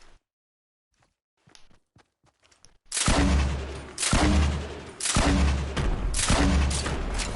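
A grenade launcher firing in Fortnite, with four heavy, booming blasts about a second apart after a few quiet clicks and taps.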